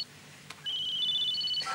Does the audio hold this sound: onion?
no